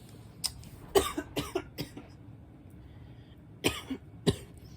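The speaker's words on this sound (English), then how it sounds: "Sorry, just trying to clear my throat." Someone clears their throat and coughs several times in short, sharp bursts, close and fairly quiet, with a pause before two final rasping coughs.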